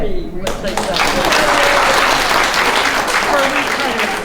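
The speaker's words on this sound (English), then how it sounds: "everybody give Renee a round of applause" Audience applause for a singer-songwriter at a gathering in Santa Fe, New Mexico: dense, sustained clapping that swells quickly and holds loud and steady for several seconds, with a voice talking faintly beneath it.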